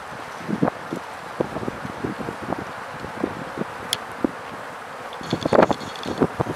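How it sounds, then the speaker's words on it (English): Honeybees around an open hive, a soft scattered buzz with intermittent wind noise and rustling, close to the microphone. "A lot of bees."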